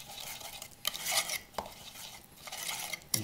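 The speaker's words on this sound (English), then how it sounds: "All I'm gonna do is mash it up with the fork" A fork mashes anchovy into a bowl of salad dressing, making light, irregular metallic scrapes and clinks against the dish at close range.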